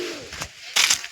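Pigeons nesting with eggs near a house give a few soft, close coos and rustles, brief and alone without talk.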